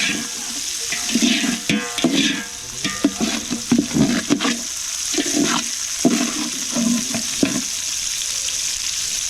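Small shallots frying in a pan for a beef nalli gravy give a steady close sizzle with irregular stirring scrapes and knocks over several seconds; no speech.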